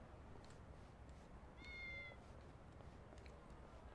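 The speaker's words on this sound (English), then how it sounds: "It's a cat." A cat meows once, briefly and softly, inside a video game, standing out over a steady low background hum.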